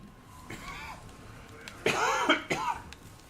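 Someone coughs a few times up close, a couple of short, harsh bursts following a faint throat-clearing sound.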